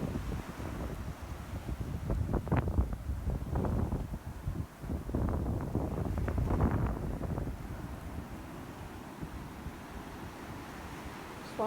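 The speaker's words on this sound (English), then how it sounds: "Watching the waves wash up onto the shore. It's pretty windy" Wind and surf on a Myrtle Beach shore, with waves washing up in a steady low rumble and gusts buffeting the microphone at moderate level, no talking.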